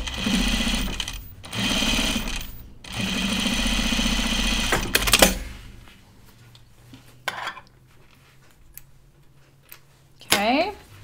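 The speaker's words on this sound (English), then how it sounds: "we're going to edge stitch on the other side" A home sewing machine edge stitches the fly of a pair of Ginger jeans, running in several loud, fast mechanical bursts with short pauses between them, followed by quieter handling clicks and rustles of fabric.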